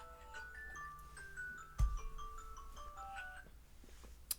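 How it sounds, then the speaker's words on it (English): A faint electronic alarm plays a melody of soft beeping tones in a quiet room, with one dull thump partway through and a small click near the end. "Hold on, an alarm going."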